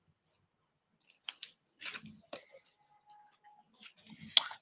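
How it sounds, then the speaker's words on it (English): Scissors trim paper in a handful of short, crisp snips close by, spaced irregularly over a few quiet seconds, with no talking. "I'm just going to trim this off"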